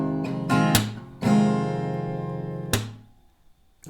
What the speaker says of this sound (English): So one full strumming sounds like this.